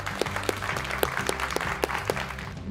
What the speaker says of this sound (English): Let's clap for this good news.